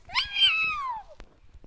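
A single drawn-out cat meow from a Roblox day care game, loud and clear, sliding downward in pitch over about a second and followed by a brief click.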